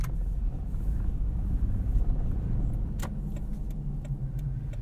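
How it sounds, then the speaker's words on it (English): A Toyota 4Runner with a Dobinsons 2-inch lift drives along, heard from inside as a steady low road and engine rumble with faint occasional clicks. "All right, let's take the 4Runner for a drive, talk about this Dobinsons 2-inch lift."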